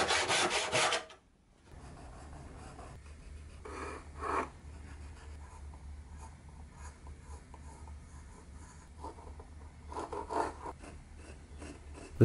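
A file smoothing the curve of a small shaped wooden block for a dovetail box, with bursts of rasping strokes at the start and in the middle and end, separated by quieter pauses, no talk.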